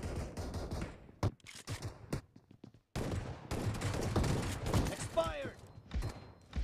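Gunfire in the battle game BGMI crackles in rapid bursts and single shots, loud and close, with short gaps between volleys and a voice calling out over the action.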